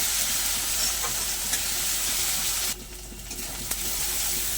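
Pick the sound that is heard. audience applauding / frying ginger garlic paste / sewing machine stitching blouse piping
frying ginger garlic paste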